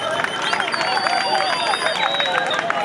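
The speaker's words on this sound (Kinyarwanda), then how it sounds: "Bakomera amashyi cyane." Audience applause at an award ceremony, a dense steady patter of clapping from a crowd with an announcer's voice and cheering over it.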